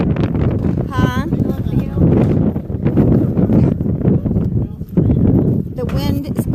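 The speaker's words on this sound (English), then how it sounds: "The wind is blowing." Wind buffets the microphone at an outdoor shooting range, a loud continuous rumbling roar, with someone speaking over it at times.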